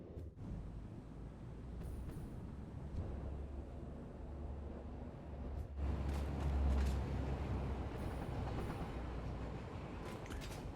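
A train in the Satisfactory factory-building game rolls along steadily with a continuous low rumble and faint clatter, growing a little louder midway, with no voices.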